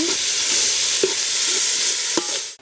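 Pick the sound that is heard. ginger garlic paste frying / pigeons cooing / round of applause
ginger garlic paste frying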